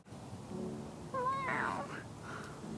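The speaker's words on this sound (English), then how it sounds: "the second has to be Kit, since she's only a kitten" Kitten meows in a few short rising, wavering cries, close and clear over a low background murmur, with a louder, brighter call in the middle.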